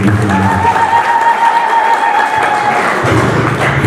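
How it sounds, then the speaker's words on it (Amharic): An audience claps at a church hymn program, a steady patter of many hands filling the space, moderately loud and continuous, with some low thumps and faint crowd murmur underneath. "ካጨበጨባችሁ ወደም አጨብጭቡ።"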